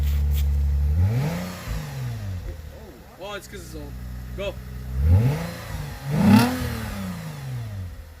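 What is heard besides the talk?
Lexus IS250 revving with Invidia Q300 exhaust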